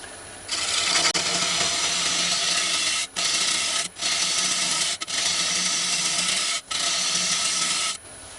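A sharpened turning tool cuts a very dry wooden bowl on a lathe, a loud steady rasping hiss that runs in long passes, broken by several brief pauses as the tool lifts off the spinning wood.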